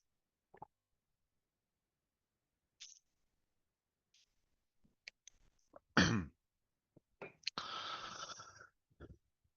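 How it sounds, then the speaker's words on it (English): A single throat clearing rasps out near the end, close and fairly loud, after scattered faint clicks and small mouth noises in near silence. "I did clear my throat."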